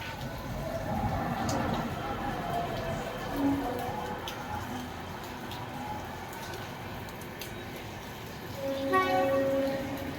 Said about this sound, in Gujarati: ટ્રેને આવી.